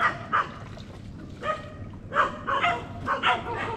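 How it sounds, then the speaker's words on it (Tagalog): A dog barks in short repeated bursts, some yippy and whining, fairly close, over a low background rumble. "Kasing may aso naman, baka tayo kagatin dito."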